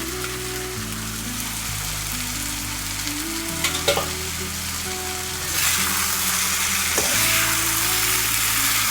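Ragi vermicelli frying in a pan with tomato for upma, a dense, loud sizzle under steady stirring, a low electrical hum throughout and the hiss growing brighter toward the end.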